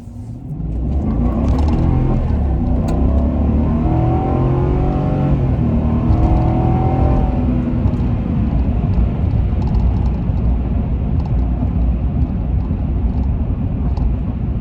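A 2019–2021 Chevrolet Silverado pickup engine with a K&N 63 Series cold air intake revs up loudly and holds a deep, rumbling roar, with rising engine tones early on before settling into a steady drone.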